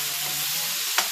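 Carrots being lightly stir-fried in a pan, a steady soft sizzle with faint stirring and one brief scrape near the end, close and continuous with no talk.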